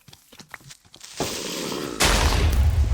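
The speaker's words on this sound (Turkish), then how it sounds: "creeper Abi patladı. mekanı patlattı." A Minecraft creeper explosion: a burst of noise, then a louder, deeper boom that stays loud and rumbling to the end, after some faint clicks at the start.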